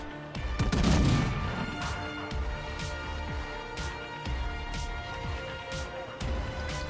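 Naval guns firing in World of Warships Legends with a Collingwood ship: a heavy booming salvo, then a string of sharp, quieter gun cracks spaced irregularly over a low rumble.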